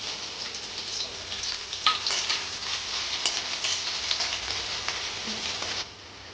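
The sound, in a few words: chopped onion frying in pan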